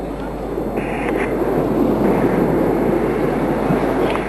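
Aircraft flying in formation at an air display give a steady, distant broadband roar that holds at an even level throughout.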